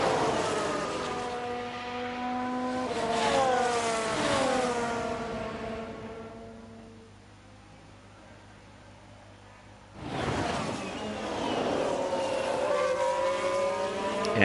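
Formula One cars in F1 Manager 22 scream past one after another, their engine pitches climbing and falling as they lap. The noise fades to a low hum midway, then a loud car bursts back in.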